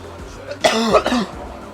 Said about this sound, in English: hopefully one of these days I'll get rid of this chronic cough that I've been having